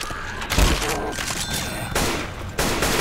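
AK rifle fire in the video game Left 4 Dead 2 erupts in loud, close bursts of rapid shots, with fresh volleys starting about every second over a constant game background.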